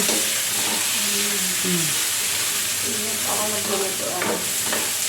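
Onions sauté in a hot pan with a loud, continuous hiss and sizzle heard close up, while a voice speaks faintly beneath it.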